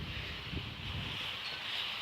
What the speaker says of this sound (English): I didn't know it was gonna be this windy this morning.